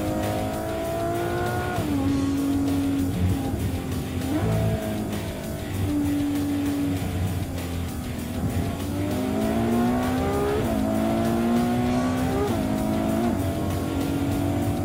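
A Ferrari F12 sports car with a 6.3-litre V12 drives continuously, its engine note climbing through gears with repeated revving sweeps and shifts, loud and sustained throughout.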